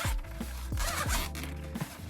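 A bag's zipper pulled open in several quick strokes, close and fairly loud, with rasping bursts spaced through the clip.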